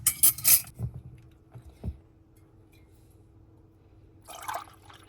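One cup of water splashes into an Instant Pot holding a rack with six eggs, in two short pours: a quick burst at the start and another near the end, with quiet between.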